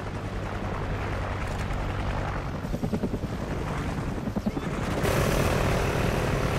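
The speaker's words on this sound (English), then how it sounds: "Friendly chopper inbound." Helicopter rotor chop in a multiplayer shooter as a friendly chopper arrives, a steady loud whir under gunfire and game noise, with a low voice briefly talking.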